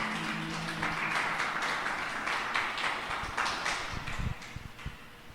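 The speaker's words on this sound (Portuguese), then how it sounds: "Você pode aplaudir a Jesus aí, queridos?" Congregation applauding in a church service, a steady wash of many hands clapping that fills the whole stretch, moderately loud and continuous with no talk over it.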